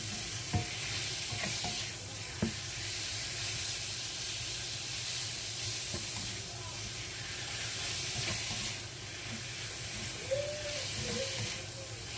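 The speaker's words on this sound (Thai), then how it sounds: "ผัดไปจนแบบว่าจนรู้สึกว่า หมูใกล้สุกค่ะ" Pork for Thai sweet and sour stir-fry sizzles steadily in a hot pan, with a constant frying hiss broken by occasional sharp scrapes and clicks of a utensil stirring the meat.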